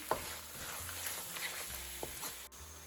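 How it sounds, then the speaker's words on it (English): Quiet, steady sizzling of prawns frying with coriander and spices in a pan, with occasional soft clinks of stirring. "now you just fry the coriander and the masalas and the prawn"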